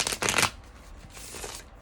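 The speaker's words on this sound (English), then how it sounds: "these are the Mystic's Beauty Truth Oracle cards" A deck of Mystic's Beauty Truth oracle cards being shuffled, one close, crisp riffle burst followed by a softer second shuffle, alone without talk.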